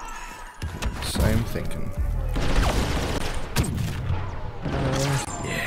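A grenade blast in Star Wars Battlefront II, a heavy boom in the midst of constant battlefield gunfire and explosions, with a voice talking briefly over the chaos.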